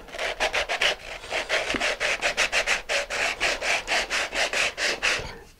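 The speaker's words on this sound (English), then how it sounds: "So I have some 100 grit sandpaper here and a sanding block." A nose cone is sanded by hand with 100 grit sandpaper on a sanding block, giving a quick, even run of raspy back-and-forth strokes, close and fairly loud, with nobody talking.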